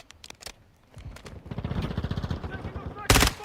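Rapid automatic gunfire from a 9mm ISO weapon in Call of Duty Modern Warfare II, a fast rattling burst building in the middle and ending with a loud sharp blast, with scattered single shots before it and faint voices in the background.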